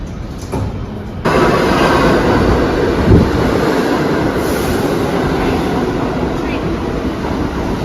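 A New York City 1 subway train rides along, loud and steady, with a constant rumbling roar, rail clatter and faint wheel squeal. The noise swells slightly after the first second and continues without a break.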